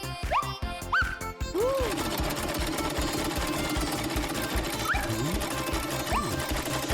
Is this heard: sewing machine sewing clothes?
yes